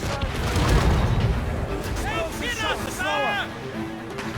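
Naval cannons fire from a sailing ship in the Assassin's Creed Rogue video game, giving several booming shots amid crew shouts and battle noise, with a commander's voice giving orders over the gunfire.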